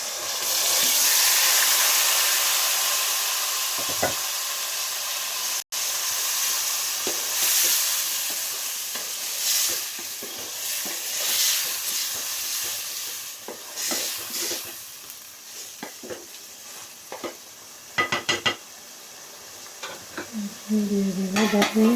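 Chicken pieces frying in a pan for a chicken and potato curry, with a sustained loud sizzle, repeated scraping stirs and clinks of a utensil against the pan, the sizzle easing toward the end.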